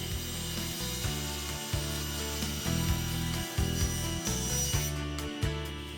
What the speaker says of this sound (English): Align the layout line on the pattern with the kerf in the auxiliary miter gauge fence and cut one piece free.